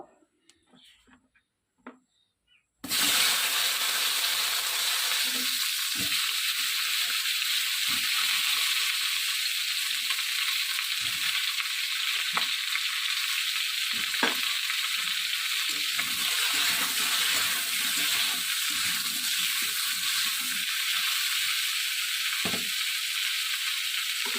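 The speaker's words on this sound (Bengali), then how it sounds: "তেলটা গরম হয়েছে এখন আমি এটাতে পটলগুলো ছাড়ে দিব" Pointed gourd (potol) pieces hit hot oil after a few quiet seconds, and a loud, steady sizzle starts at once and keeps going, with occasional clicks and scrapes from stirring.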